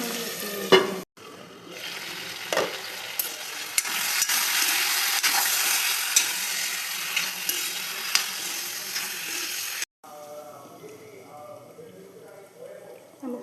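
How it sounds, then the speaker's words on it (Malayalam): Chicken pieces fry in oil inside a covered pan, giving a steady, dense sizzle close by. The sizzle drops out briefly near the start and again near the end. "ചിക്കൻ എണ്ണയ്ക്കകത്തൊക്കെ ഇടുകയാണ്."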